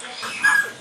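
A dog lets out a single short, close, whining yelp that rises briefly and fades within a second.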